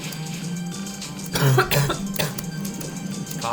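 A single short cough, close and fairly loud, breaks through a steady background hum and then fades back into it.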